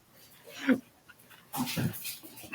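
A small pet dog gives soft, short whimpers and yips in two bursts, fairly close and quiet against a hushed room.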